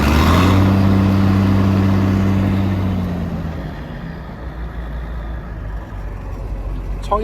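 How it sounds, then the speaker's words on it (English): A farm machine engine with a flexible exhaust pipe and a small throttle revs loudly up close, its pitch sliding down as it winds back to a steady, lower rumble. "There's the engine rev."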